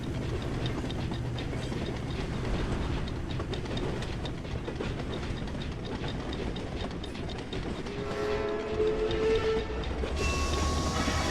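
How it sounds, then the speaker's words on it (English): A train in the video game Poppy Playtime Chapter 4 rumbles and clatters steadily along its track, with a high whining, horn-like tone rising near the end over the continuous rolling noise. "Is that what the train is supposed to sound like?"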